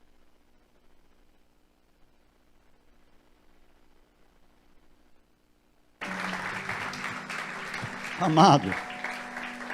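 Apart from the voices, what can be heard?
congregation applauding in church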